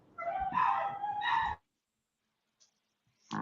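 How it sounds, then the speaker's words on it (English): Dogs in the house bark and whine in an upset outburst, loud and close, for about a second and a half, then quiet with a couple of faint later yelps. "Your dogs seem upset again, Chris."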